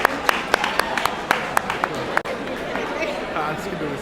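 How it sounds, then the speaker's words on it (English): A crowd applauding steadily with sharp individual claps standing out at a community iftar event in Minnesota, people chattering underneath throughout. "A round of applause, please."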